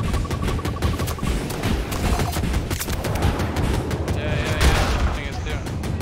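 Sustained rapid gunfire from a KA-520 Super Hokum helicopter in Battlefield 2042, loud and dense throughout with booming impacts and a shrill whine near the end.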